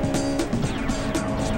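Honda Integra Type R engine revving hard toward 8,500 rpm, a loud sustained buzzing drone with rising and falling pitch sweeps, heard close and alone without talk.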